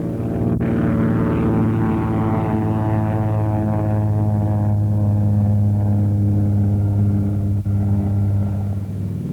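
A propeller aircraft engine drones loudly and steadily nearby as the plane lands on an aircraft carrier flight deck, a deep harmonic roar holding for several seconds.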